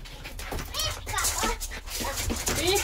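A pet dog named Pippa whimpers and lets out short high yips in bursts, close by, while people talk over it indoors.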